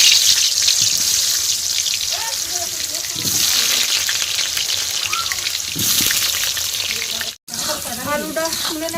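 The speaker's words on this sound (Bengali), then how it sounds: "তো মাংসের জন্য আলুটা ভেজে নেবো" Potato pieces fry in hot oil ahead of a meat curry, a continuous loud hiss that fills the clip, with faint clinks and a brief gap near the end.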